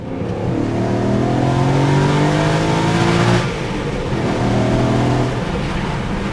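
A 2007 BMW M3 with a V8 engine and manual gearbox accelerates hard on the road, revving up through a gear, a brief dip at the shift, then climbing again, loud and close from inside the car.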